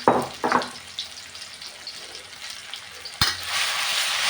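Sizzling and crackling from garlic and chilies stir-frying in a hot pan, with a couple of sharp clatters near the start and a louder burst of frying toward the end.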